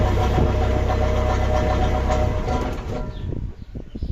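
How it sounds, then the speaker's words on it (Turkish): Amusement park train engine in Sazova Park being switched off with the ignition key: a loud, steady mechanical engine drone that cuts out after about two and a half seconds, leaving faint scattered clicks and knocks. "Bakın araba gibi kontağı çevirdikten sonra durdu."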